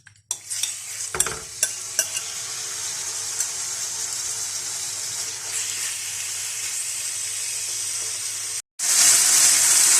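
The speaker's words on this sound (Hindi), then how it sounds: "इसके अंदर मैरिनेट की हुई चिकन डालकर फ्राई कर लेंगे" Marinated chicken fries in about two tablespoons of oil in a pan, a loud continuous sizzle with occasional scrapes of stirring, then a brief break before a sharper, hissier burst of frying.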